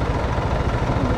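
A Kymco KRV Moto 180 scooter engine idles steadily after a restart, a low continuous rumble close by with no talking.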